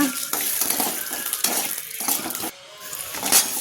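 Ginger, garlic, dried red chillies and green chillies fry in a pan for curry leaf chutney, a close sizzle with stirring scrapes and clinks of the utensil against the pan.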